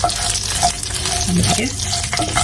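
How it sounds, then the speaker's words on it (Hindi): Green chillies sizzle and fry steadily in a hot pan, a continuous bright crackling hiss with occasional stirring scrapes, close and fairly loud with no talking. "चलिए अब हम इसमें डाल देते हैं मिर्ची"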